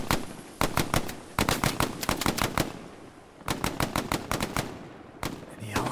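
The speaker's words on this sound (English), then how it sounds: "There are a lot of grenades being bounced around, along with smoke grenades too." Rapid gunfire and grenade blasts in a D-Day console video game, with dense bursts of sharp shots in clustered volleys broken by short pauses, loud and continuous throughout.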